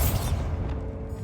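The Bombarda explosion spell in Hogwarts Legacy goes off as a deep, heavy boom with a bright crackling burst at the start, then a rumbling low tail.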